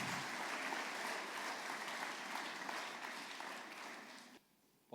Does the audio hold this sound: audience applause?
yes